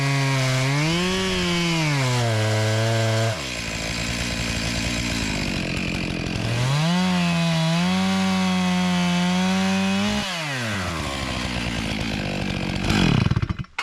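A chainsaw mills a log into timber posts and slabs on an off-grid property, its engine loud and close, holding a steady cutting whine with revs dipping and rising, then cutting off abruptly; no voices.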